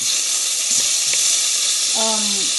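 Bacon and tomato sizzle steadily in a frying pan, a loud constant hiss with a brief tonal clatter near the end.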